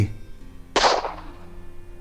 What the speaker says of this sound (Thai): ในความเงียบนั้น เสียงปืนนั้นดังก้อง มีเสียงสะท้อนกลับมาเหมือนคำท้าทาย